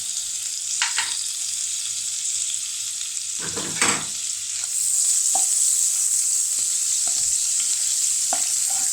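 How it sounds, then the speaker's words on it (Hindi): Blue Band butter melts and sizzles in a pan for white sauce pasta, a steady bright hiss broken by a few scraping stirs and utensil knocks, growing slightly louder partway through. "अब इसी पैन में हम जो है मक्खन ऐड करेंगे"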